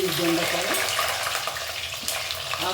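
Ivy gourd frying in hot oil in a pan, a steady close sizzle with faint stirring scrapes, no talk.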